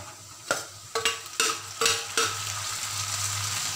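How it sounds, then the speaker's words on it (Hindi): Onions frying in a pan until golden, a steady sizzle broken by about five sharp scraping clinks from stirring, close and clear with no talking. "प्याज को थोड़ी देर तक भूंजेंगे, जब तक ये गोल्डन कलर का नहीं हो जाता तब तक इसको फ्राई करेंगे"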